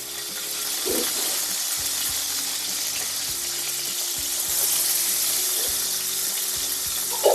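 Fish frying in a wok filled with plenty of oil, a steady loud close sizzle and crackle with faint clinks of utensils underneath, continuous throughout.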